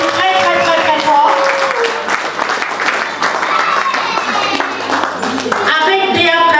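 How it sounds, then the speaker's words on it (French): Audience applause at a ceremony in a hall, loud sustained clapping from a crowd mixed with voices and music throughout. "que je vous prie d'applaudir très fort"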